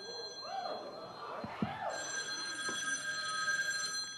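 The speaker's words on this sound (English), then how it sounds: "That sounds like the phone." A telephone rings on a daytime television talk show set, its bell tones sounding over a murmuring studio audience with a couple of sharp knocks in between.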